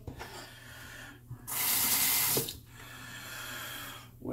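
Water gushes from a tap to wet a razor blade for shaving, a loud hissing stream lasting about a second near the middle, with quieter splashing and handling noise before and after.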